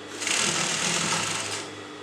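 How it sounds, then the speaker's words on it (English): A sewing machine stitches folded kurta fabric at a neckline edge in one short, loud, continuous burst of rapid whirring, ending as it slows. "And then you can sew on the inner part of the folding."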